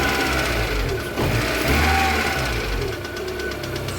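A warmed-up VAZ 2112 engine idling unevenly, a close, steady mechanical chatter with a rough, knocking pulse and slight wavering in its rhythm, heard alone without talk.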